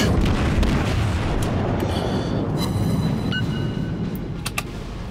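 Loud, continuous naval gunfire and explosions from the World of Warships video game, with a dense rumbling roar throughout and a few sharp cracks near the end.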